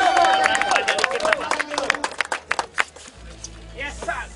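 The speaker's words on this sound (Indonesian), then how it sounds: "Kayaknya harus tepuk tangan dulu deh yang di sini" A crowd claps at the opening of a sports field, with a short burst of clapping mixed with lively talk, shouting and a whistle-like tone, ending in quieter voices and background noise.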